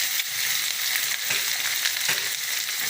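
Chopped onion frying in oil with mustard seeds and garlic, a dense, continuous sizzle close up with a few soft stirring bumps, no voices.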